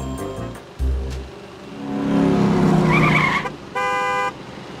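The Super Stinger 3000 racing vehicle from the Bee Movie video game gives short engine bursts and a skidding whine. Near the end come bright, horn-like toots, all loud and close with no talk.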